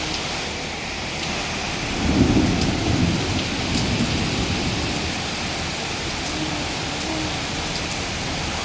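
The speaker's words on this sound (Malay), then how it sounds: "Hujan semakin lebat ya tuan-puan, hujan begitu lebat ya di Setia Alam." Heavy rain pours steadily in Setia Alam, a dense unbroken roar of drops on surfaces, with a low thunder rumble swelling briefly early on before the downpour continues alone.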